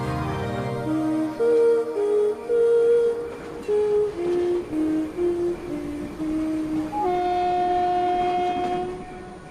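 A train on the Kalka Shimla railway sounds its horn loudly in a run of short and held blasts that shift pitch, close by and without voices.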